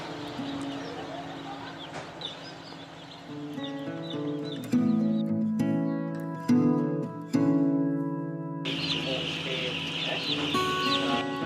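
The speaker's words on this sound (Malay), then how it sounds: "anak ayam ni daripada hatchery dah sampai ke ladang" Chicks at a poultry farm, newly arrived from a hatchery, giving a dense chorus of high peeping and clucking over a steady hum of farm machinery, with occasional thumps.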